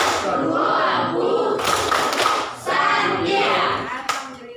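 A group of teachers at a coaching session performs a rhythmic clap-and-chant routine, bursts of loud clapping and shouted voices coming in uneven waves, close and energetic.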